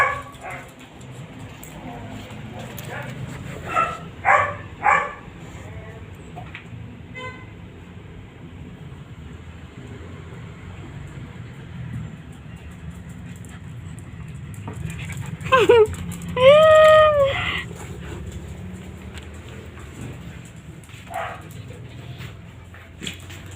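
A pet dog whimpers and gives short yipping cries in two close bursts, high-pitched and whiny, separated by quieter stretches with faint background noise.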